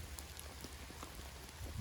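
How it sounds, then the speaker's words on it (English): Heavy rain drums steadily on canvas military-style shelters at a bushcraft camp, a dense continuous patter with scattered louder drops, no voices. "It has not stopped raining all night."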